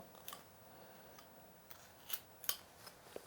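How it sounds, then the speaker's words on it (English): A knife cuts a small V groove into wood while a Santa figure is carved, giving faint, sparse snips and clicks at irregular intervals against near silence. "So I'm going to take a little V groove along the side here, coming off to the side. Cut that out"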